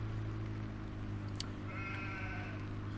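A sheep bleats once in Farming Simulator 17, a short wavering bleat over a constant low engine drone, with a brief sharp click just before it.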